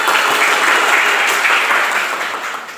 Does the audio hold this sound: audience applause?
yes